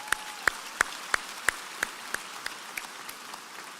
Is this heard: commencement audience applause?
yes